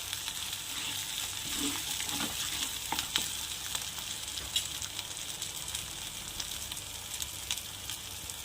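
Chana masala sizzles steadily in oil over medium heat, a continuous close frying hiss with occasional soft stirring scrapes throughout.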